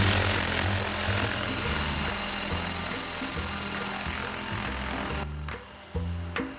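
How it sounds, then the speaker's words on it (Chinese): A white unmanned helicopter drone carrying serum over the Alishan mountains lifts off with a loud, steady rotor and engine roar that holds throughout, then drops sharply near the end. "看到这架白色无人直升机慢慢升空"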